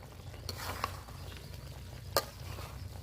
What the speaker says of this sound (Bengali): তো এখন আমি শুধু হালকা জাল রেখে চুলায় লাড়বো